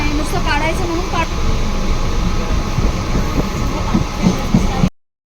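A train at Badlapur railway station gives a steady rumble with a mechanical clatter, and voices and station bustle run beneath it throughout.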